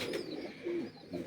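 Soft pigeon coos, a few low rounded calls in a quiet setting, fairly close.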